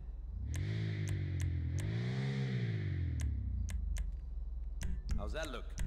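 Car engine in GTA 5 revving with a newly fitted exhaust, a steady low harmonic drone rising and falling in pitch through several throttle swells, with sharp clicks from menu selections and a brief voice near the end.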